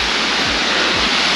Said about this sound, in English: And there's a waterfall.